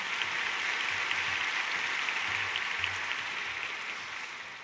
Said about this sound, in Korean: 다시 한번 큰 박수로 축복합니다.